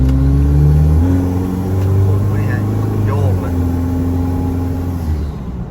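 An Isuzu V-Cross pickup with a rebuilt engine, automatic gearbox and 33-inch tyres pulls away hard in heavy morning traffic, its engine note loud and steady from inside the cab with a low droning hum that rises and shifts, and voices chatting over it.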